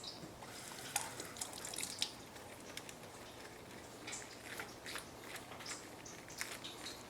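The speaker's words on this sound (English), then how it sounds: "So give me some lettuce here. Let's hit that. You want to rinse that off." Lettuce is rinsed under a running kitchen tap, the water splashing and spattering steadily at close range, with uneven little drips and splashes as the leaves move through the stream.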